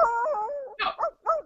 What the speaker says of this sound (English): You hear that puppy?